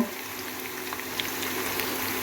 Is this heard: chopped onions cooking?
yes